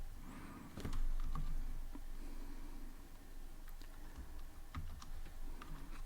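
Fingers tap out a short word on a computer keyboard in a quiet room, a soft, close, irregular run of clicks with brief pauses between bursts.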